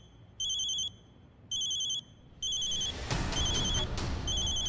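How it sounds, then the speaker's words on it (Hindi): An electronic phone ring tone beeps in three short bursts with pauses between, then continues under a rising rush of noise and clatter. "मेरी माँ का फोन है।"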